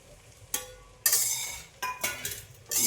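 Spoon stirring crushed peanut powder into a mixture in a pan, several distinct bursts of scraping and rustling with short pauses between, close and fairly quiet with no voices.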